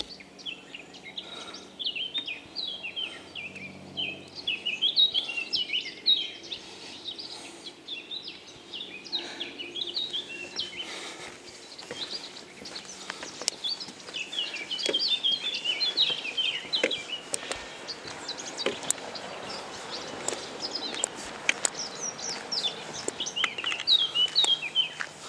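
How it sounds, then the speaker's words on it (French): Small birds chirp and sing repeatedly in a wooded park on a hike near Chantilly and Saint-Maximin, their bright calls continuing steadily over faint background rumble and footstep-like rustling. "des petits oiseaux"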